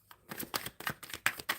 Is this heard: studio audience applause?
no